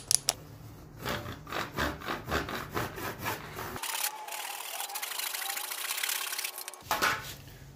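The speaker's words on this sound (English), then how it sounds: "This is my jigsaw." A jigsaw cuts through wood on a mini boat trolling motor mount project, rhythmic rasping strokes giving way to a steady buzzing cut, then pausing briefly before resuming, close and fairly loud with no talking.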